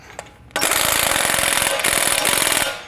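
An impact wrench fitted with a 36mm socket hammers a CV nut tight on a truck's steering knuckle during a lift-kit install, a loud close rattling burst of about two seconds after a faint tap.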